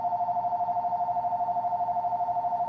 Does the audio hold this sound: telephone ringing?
yes